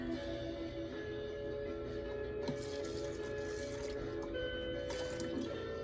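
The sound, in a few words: liquid pouring into spray bottle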